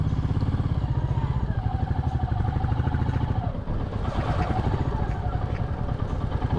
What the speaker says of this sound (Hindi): यहाँ से मैं बाइक टर्न करके वापस जा रहा हूँ।